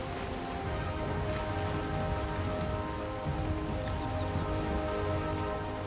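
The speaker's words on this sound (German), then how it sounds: "da war eine Wolke am Himmel, die hat dort geregnet" Steady rain in the video game Valheim, a dense, even hiss of falling drops that continues unbroken and fairly loud throughout.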